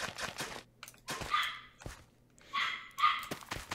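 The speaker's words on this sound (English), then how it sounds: "You can hear our little dog making plenty of noise right now." A small dog barks in Minecraft in bursts of sharp yips and barks. The bursts come in clusters with quiet gaps between them, fairly close and loud.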